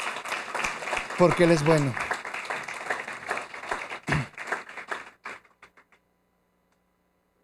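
A church congregation applauds during a sermon, a dense wash of clapping mixed with someone speaking Spanish that thins to a few scattered claps and then stops.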